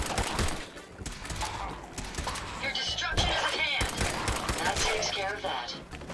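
Gunfire in Fallout 4 on survival difficulty comes as clustered sharp shots and impacts amid a busy mix of game noise, with voices talking over it.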